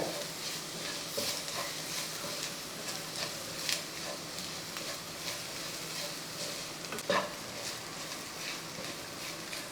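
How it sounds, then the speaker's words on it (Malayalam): Chopped dates are stirred into a spice mix in a pan for a tamarind curry, with a soft sizzle under intermittent scraping and stirring, quiet and close. "ഈ ഈന്തപ്പഴം കൂടെ ഇതിൻ്റെ കൂട്ടത്തിൽ നന്നായിട്ടൊന്ന് മിക്സ് ചെയ്തെടുക്കുക"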